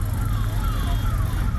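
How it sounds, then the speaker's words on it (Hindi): An ambulance siren wails with a rising and falling tone as it passes along a road near a flyover construction site on the Dwarka Expressway, sounding over steady traffic rumble. "एक एम्बुलेंस जा रहा है"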